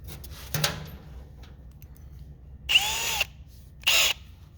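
A power drill fitted with a pilot bit bores a pilot hole in three separate bursts: a short one first, then two longer runs, each close and loud against a quiet background with no talking.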